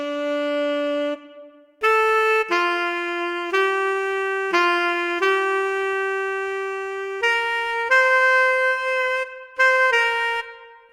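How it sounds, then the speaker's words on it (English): A tenor saxophone from a virtual instrument plugin plays a legato line of sustained notes with short breaths between phrases, warm and reedy, solo and close. "Let's go ahead and listen to the tenor real quick."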